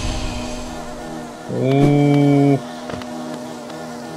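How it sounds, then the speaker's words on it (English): A low, droning insect-like buzz from a bee's nest in the video game Hollow Knight swells for about a second against quiet ambient background, with a brief murmur from a voice. "I really am inside of a bee's nest."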